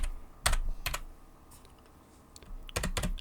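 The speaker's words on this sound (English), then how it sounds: "Within the brackets, I type the text to identify the site I'm going to link to." Scattered keystrokes on a computer keyboard while entering link text in a notes app: a few sharp clicks early, a pause, then a quick cluster near the end, close and fairly quiet with no talking.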